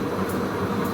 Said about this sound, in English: It's a carding machine